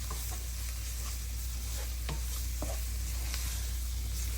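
Flour and grease cook together in a pan for homemade gravy, a steady close sizzle with faint scraping stirs and soft pops throughout, no voices.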